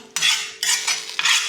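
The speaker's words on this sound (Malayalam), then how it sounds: "ഞാൻ ദേ കടുകെല്ലാം വറുത്ത് വെച്ചു ചേർക്കുവാണ്" A spoon scrapes and stirs fried mustard seeds into jackfruit curry in a pan, three separate bursts of metallic scraping with short quiet gaps, close by and with no talking.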